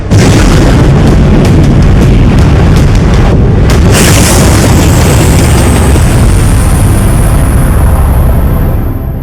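An explosive charge is fired, a massive, sustained roaring blast that fills the whole stretch, loud and close, with crackling bursts early on and a rumble that slowly fades.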